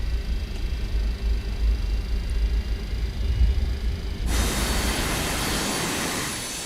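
Jet engines of a Boeing 727 Aerosucre freighter taxiing in a flight simulator game, a low steady rumble that gives way to a brighter, louder hiss partway through, with no talk.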